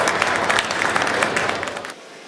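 Loud, dense applause from an audience at a Hindi comedy poetry gathering, steady for about two seconds and then dropping off sharply.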